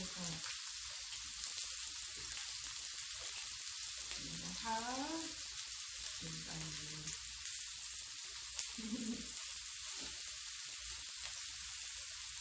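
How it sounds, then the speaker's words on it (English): Bacon frying at a home Thai-style pork barbecue in cold weather gives a steady crackle and sizzle throughout, with quiet, brief voices and murmurs heard over it. "Well, that bacon's got to cook. Got to crispy it up"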